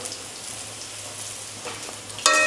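Lentils and asafoetida fry in a pan, giving a steady close sizzle that runs throughout, with a brighter crackle near the end.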